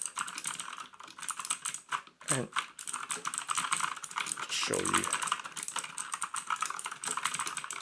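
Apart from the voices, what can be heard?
typing on EasySMX mechanical gaming keyboard keys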